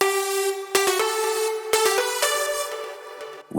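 A dry synth lead plays a bright melody with no effect on it, rich buzzy harmonics and several distinct notes changing in a clear rhythm, alone and up front.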